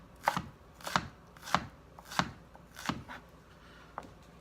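A knife dices a shallot on a cutting board in six evenly spaced, crisp chops that stay close and clear, with a slight pause before the last one.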